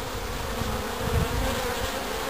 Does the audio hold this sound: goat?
no